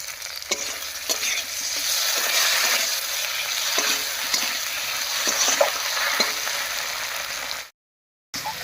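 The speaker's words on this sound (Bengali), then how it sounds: "এবারে মশলা বাটা জল দিয়ে খুব ভালো করে কষিয়ে নেব" Spice paste of chili, ginger, cumin and coriander fries with potatoes in oil for a vegetarian cauliflower dish, a close steady sizzle broken by scraping spoon strokes, then a brief cut to silence.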